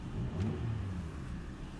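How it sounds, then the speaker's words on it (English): A 2013 Toyota iQ with a 1.0 VVT-i petrol engine and automatic Multi-Drive gearbox is briefly revved while parked, giving a low, steady, fairly quiet engine rumble with a slight rise and fall in pitch. "Give it a little rev, just so you can see that it revs absolutely fine."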